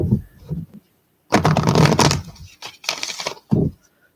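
Tarot cards shuffled by hand during a reading, several distinct riffling bursts separated by pauses, close and crisp, with no talking.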